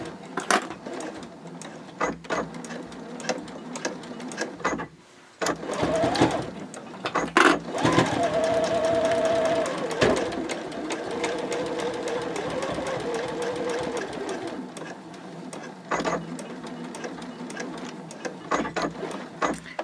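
A sewing machine stitches a French seam on a quilted boxy bag at a 3/8 inch allowance and 3.0 stitch length, running in steady bursts of rapid mechanical chatter with short pauses for backstitching at the ends.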